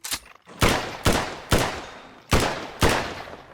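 Five loud, evenly spaced blasts from the Volcanic Repeater gun in the Minecraft Scorched Guns 2 mod, each shot booming close and ringing out briefly before the next, with no talk.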